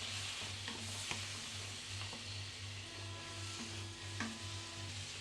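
Soy sauce is added while stir-frying in a pan for fast-food-style noodles, giving a quiet, steady sizzle with faint scraping and tapping from stirring throughout.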